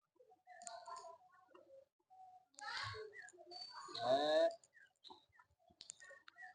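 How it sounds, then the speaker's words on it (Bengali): Pigeons coo softly around a house where birds gather to feed, with short, quiet calls in scattered bursts and near-silence between them. "কত পাখি দেখো বাড়িতে চলে এসছে"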